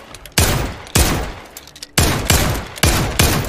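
Semi-automatic shotgun blasting in the VR shooter Zero Caliber VR, six loud, booming shots in an uneven rhythm, each with a decaying echo tail, close and alone with no talking.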